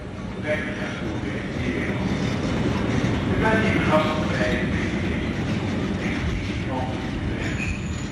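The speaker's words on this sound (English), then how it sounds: "the occasional heavy train rumbles through" A heavy train rumbles through Utrecht station in Holland, a steady loud roar of wheels on rail with faint squeals and clatter running the whole time.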